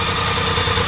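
A BMW K75 motorcycle engine runs at a steady high idle, a continuous close mechanical drone with no break or change in level.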